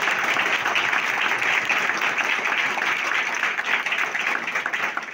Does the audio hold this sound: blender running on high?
no